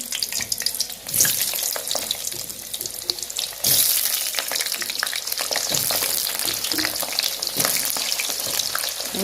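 Potatoes coated in salt and turmeric frying in oil, a loud, dense, crackling sizzle running throughout with occasional stirring clatter, close up and without voices.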